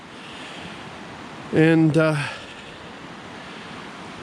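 The Ashnola River flows beside a campsite in a constant, close rushing wash, with a voice speaking briefly over it.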